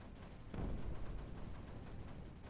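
Mortars firing in the strategy video game Creeper World 4: faint, muffled booming thuds, one stronger burst near the start followed by rapid scattered shots, low in level.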